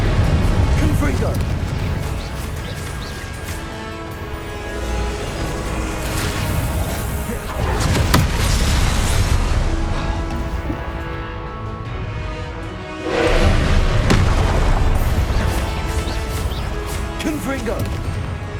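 Confringo fire spell blasts in Hogwarts Legacy, repeated booming crashes with crackling bursts, three or so loud impacts swelling out of a busy combat soundscape, with voices calling out between them.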